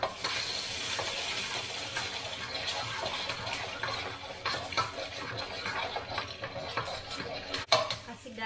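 Lumpia filling is stirred in a pan, giving faint scraping and light sizzling clatter at an uneven rhythm with no speech over it.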